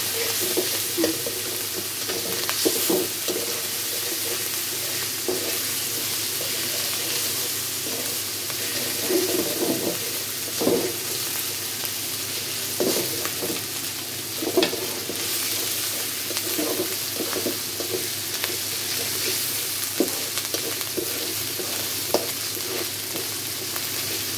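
Garlic, ginger and spices fry in a pan for a prawn and sweet pumpkin curry, giving a steady moderate sizzle with periodic stirring scrapes and light clinks.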